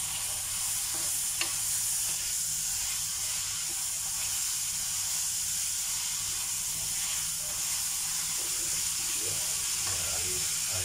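Meat frying in hot oil in a pan while cooking laing, a steady dense sizzle and hiss with occasional stirring scrapes, close and continuous throughout.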